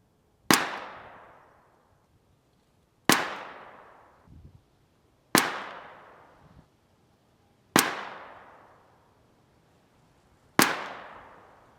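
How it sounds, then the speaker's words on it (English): Five sharp .22 pistol shots from a Ruger firing CCI Mini-Mag hollow points at an outdoor range, evenly spaced about two seconds apart, each a crisp crack with a quick decaying tail, and no talking. "we just did 5-round CCI Mini-Mag hollow points at 50 yards using the same Ruger"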